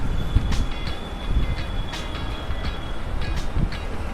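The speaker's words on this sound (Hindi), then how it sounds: "तो यहाँ से ही ट्रेन द्वारका तक जाती है" A metro train runs near Botanical Garden station in Noida, a steady rolling rumble heard from a short distance with repeated light clicking and clacking from the wheels, and a thin high tone above it.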